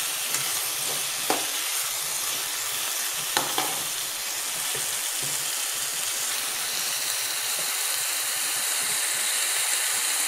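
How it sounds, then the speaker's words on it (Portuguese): Seasoning for jurubeba with egg sautés in a pan, a loud steady hissing sizzle close up with a few faint utensil taps early on and no talk. "Agora eu vou refogar, acabar de dar uma refogada aqui"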